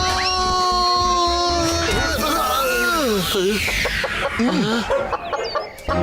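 Cartoon chickens on a poultry farm cluck and squawk loudly and continuously over animated background music, with a cartoon character's voice talking over them.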